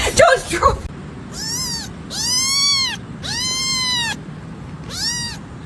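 A kitten meows four times in a row, each call loud and close with a clear rising-and-falling tone and short pauses between them, following a brief burst of clattering noise at the start.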